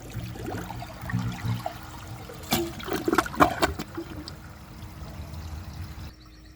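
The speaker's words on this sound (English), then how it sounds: "I'm just going to clear the rest of that out with another flush" A 2022 American Standard Homestead VorMax toilet flushing, with a gurgling rush of water that peaks midway and then trickles off, moderately loud and close.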